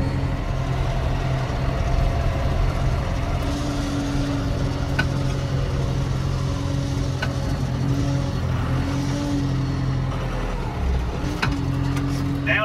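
A truck engine labors steadily through a muddy field on a farm, a continuous loud rumble with rising and falling gear whine as it shifts, close and unbroken throughout.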